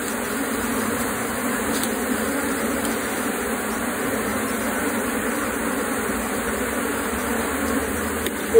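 Apis honey bees hum continuously around a hive super, a dense, steady buzz of many insects close by, unbroken for over eight seconds with no voices.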